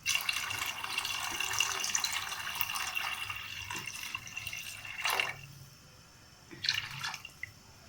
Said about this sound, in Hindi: अब मैं आपको बताती हूँ कितना पानी शामिल करना है हमने